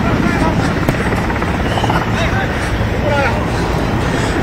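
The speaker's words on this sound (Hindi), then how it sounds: "हेलीकॉप्टर है वो यहाँ पे लाल परेड मैदान में लैंड हो चुके हैं जी" Helicopter landing at a parade ground during a chief minister's swearing-in ceremony, a loud steady rotor roar filling the whole clip with faint crowd noise beneath.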